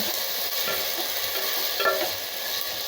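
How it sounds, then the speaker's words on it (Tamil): Tomatoes added to sautéed onions hiss in a pan with a dense, even sizzle and faint stirring, brief and close, with no voices. "இப்போ இந்த தக்காளி போட்டுக்கலாங்க. தக்காளி போட்டு நல்லா வதக்கலாங்க."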